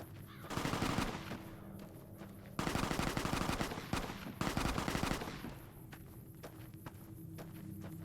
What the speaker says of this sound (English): those gunshots were not at or near me